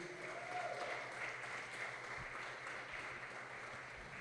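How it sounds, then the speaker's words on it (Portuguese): Steady applause from a congregation at a church service, a continuous wash of clapping with no voices, holding at an even level throughout. "Você pode aplaudir Jesus?"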